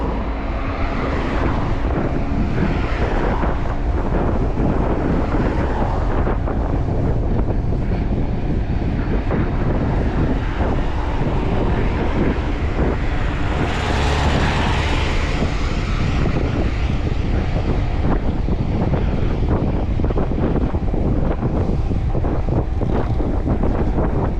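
Strong wind roars continuously against the microphone in Crimea, a loud, steady rumbling buffeting with no voices.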